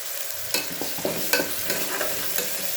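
Ginger garlic paste and coconut paste frying in a pan for mutton biryani, a close, steady sizzle broken by sharp scraping stirs every half second or so, with no talking.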